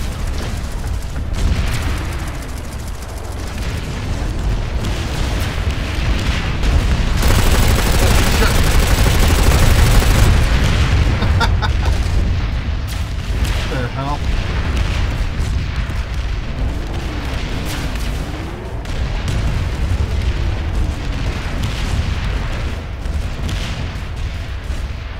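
Tank gunfire and explosions in PlanetSide 2 rumble through a continuous loud battle din of booms and bursts, with voices talking over the fighting.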